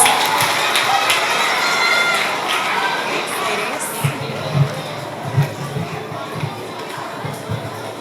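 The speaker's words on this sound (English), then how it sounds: "Let's get a big round of applause for our 4th, 5th, and 6th grade Honor Society students at Columbus School" Elementary school children and adults at a student of the month assembly make a loud, sustained crowd roar of cheering and chatter, with scattered thumps in the background.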